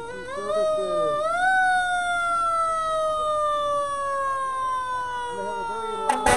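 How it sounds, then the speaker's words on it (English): South King Fire and Rescue fire truck siren wailing loud and steady at a street parade, its long tone rising then slowly falling across the clip, with crowd noise underneath and a sharp burst near the end. "They have a very loud siren."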